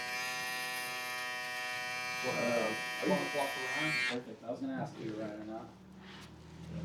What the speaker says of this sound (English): I'll come back in with my shaver shaper here and just make sure that it's crispy.